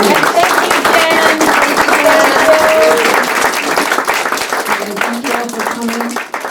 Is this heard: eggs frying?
no